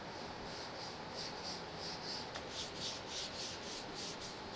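A hand rubs across a car's paint-covered surface, giving a faint, close, gritty scraping that repeats in short strokes.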